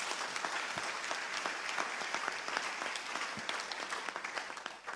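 A church congregation at a French-language Methodist Sunday service claps together, a steady, dense patter of many hands held at an even level for several seconds.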